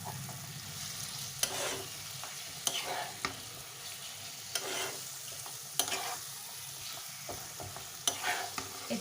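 Boneless chicken cubes sizzle and fry in a pan of cooked-down spice masala for a restaurant-style Kolkata chicken bharta, with steady crackling and repeated stirring scrapes throughout, no talking.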